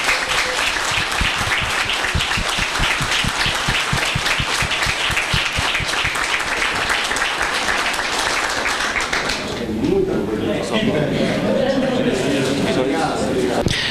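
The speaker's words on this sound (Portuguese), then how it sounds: "Uma salva de palmas todos nós." A room full of people at a chapel Mass claps in loud, sustained applause with a rhythmic patter, then it fades as a voice begins speaking.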